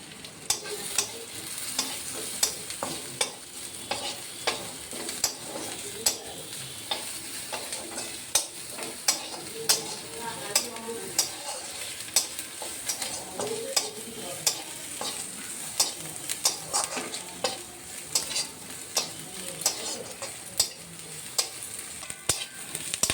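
Chili and onion fry in a pan with oil for a spicy mola fish curry, a steady close sizzle and hiss broken by frequent sharp scrapes and taps of a spatula stirring against the pan, with no voices.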